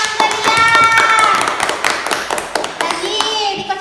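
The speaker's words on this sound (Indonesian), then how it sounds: "tepuk tangan untuk Elia." A classroom of children clapping for a classmate, a dense burst of applause that tapers off, with kids' voices and chatter mixed in over it.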